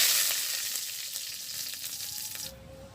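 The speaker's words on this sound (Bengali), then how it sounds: "দিয়ে দিচ্ছি তেজপাতা" Bay leaves hit hot oil in a wok, giving a loud, bright sizzle with crackling pops that gradually settles into a steadier frying hiss.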